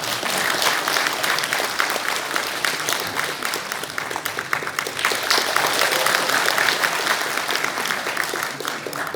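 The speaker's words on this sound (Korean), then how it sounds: "큰 박수 부탁드립니다." Sustained audience applause in a hall at the National Assembly members' office building in Seoul, dense steady clapping from a sizable crowd for over nine seconds without a break, no talking over it.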